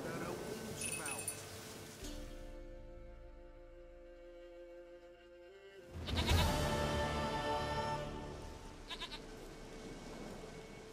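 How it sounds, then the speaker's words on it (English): Goat bleating in The Witcher 3 in the Velen countryside, a few wavering bleats at the start and again after a quiet stretch, with a low sustained tone in between and faint clinking. "Goat of mine, dearest, sweetest goat."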